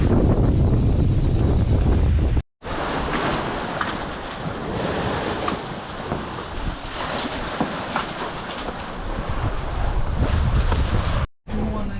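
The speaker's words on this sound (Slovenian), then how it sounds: "Tole danes je pa lepo jadranje. Ugoden veter, lepo 6 vozlov nekje." A sailboat moves at about six knots in a pleasant breeze near Papua New Guinea, with continuous rushing water against the hull and wind buffeting the microphone. The wash stays loud and steady, briefly cutting out twice.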